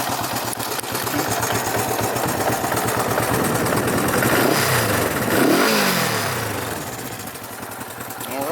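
1967 Honda CB450 Black Bomber motorcycle engine running after a cold start, a close, steady throbbing idle that rises in a couple of revs before settling again.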